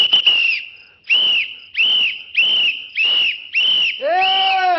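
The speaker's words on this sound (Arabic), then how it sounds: "حد يصفر الساعة 3 الفجر؟" A person whistles six loud, sharp blasts in a steady rhythm during a stage comedy sketch, ending on a longer wavering tone, close and with no talking.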